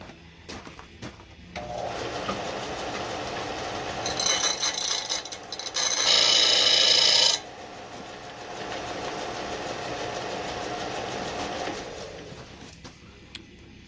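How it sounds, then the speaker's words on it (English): An old Pulaski mattock edge being ground flat with a steady, harsh rasping grind that swells louder and brighter midway, close and continuous with no talking. "I'm just going to grind that down flat, then reprofile it."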